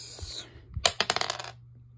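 Dice rolled in a tabletop elimination game clatter to a stop in a quick burst of small hard rattles and clicks, fairly close and loud, with no one talking during the roll.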